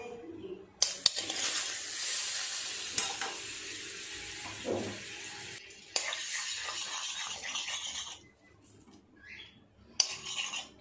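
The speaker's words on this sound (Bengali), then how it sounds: "বাটারটা ভালোভাবে গলে গেছে।" Butter melts and sizzles in a frying pan after potatoes are fried, a bright steady hiss with stirring scrapes and clinks of a spoon, pausing briefly before the sizzle resumes more faintly.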